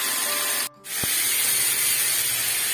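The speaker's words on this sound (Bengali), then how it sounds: "দিয়ে এটা ভেজে নেবো।" Steady, loud hiss of tengra fish frying in oil seasoned with salt and turmeric, continuous throughout with a brief dip near the start.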